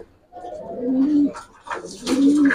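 Racer pigeons coo close by, two soft rising and falling throaty calls in a row with brief quiet gaps, lightly overlapped by rustling handling sounds.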